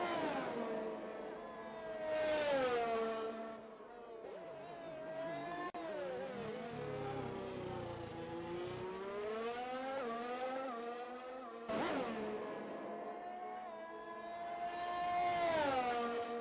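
Race car engines on the Austria GP circuit in a racing video game, one engine rising and falling in pitch through gear changes and passing cars sweeping by, fairly faint and steady.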